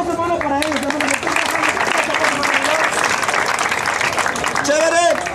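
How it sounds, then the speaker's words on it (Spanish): Crowd applause rings out after a round of an outdoor freestyle rap battle at Plaza de Reyes, steady dense clapping with cheers throughout while a host's voice rises over it at the start and end. "fuerte los aplausos, hermano, para ellos"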